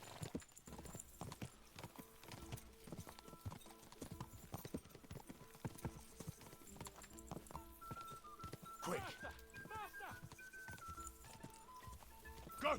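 Horse hooves clip-clop steadily in Kingdom Come Deliverance 2, a quick, continuous rhythm of light thuds under game music and some speech.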